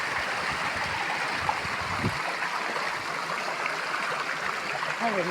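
Rushing water of a village stream swollen after heavy rain flows steadily nearby, a constant broad hiss and gurgle with faint voices briefly underneath.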